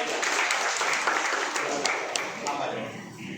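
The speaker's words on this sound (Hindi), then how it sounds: "धीरज कलाल के लिए जोरदार तालियां" Applause for a volunteer at a product presentation in a hotel, crowd clapping with a few sharp individual claps, fading toward the end as a voice begins over it.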